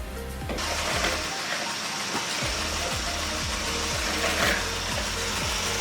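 Homemade vanilla ice cream mixture is whisked, with a steady, loud, whirring drone and a repeating pulsing rhythm throughout, close up.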